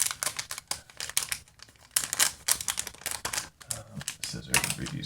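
Cardboard and plastic packaging of a Disney Infinity Power Disc pack being torn and crinkled open in quick, uneven bursts of ripping and rustling close by.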